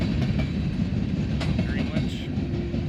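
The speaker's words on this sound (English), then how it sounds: "train here" Train passing at Greenwich, a dense continuous rumble of rolling wheels with faint squeals above, close and steady throughout.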